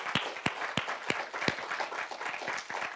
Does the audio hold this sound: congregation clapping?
yes